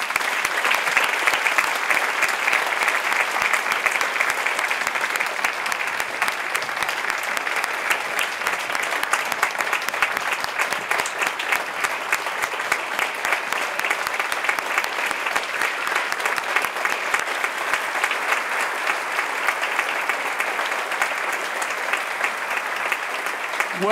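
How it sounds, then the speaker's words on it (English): An audience at a lecture series claps for its speakers in a long, steady round of dense applause that fills the hall, sustained at an even level throughout. "Let's have another round of applause for our phenomenal speakers."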